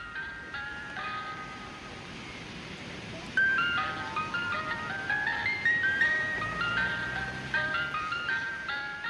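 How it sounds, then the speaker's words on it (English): Traditional ice cream truck jingle plays through the streets of Cape Town, a bright, tinkling electronic melody that repeats in short notes over faint traffic rumble and grows louder partway through. "serenading the people of Cape Town with traditional ice cream truck music"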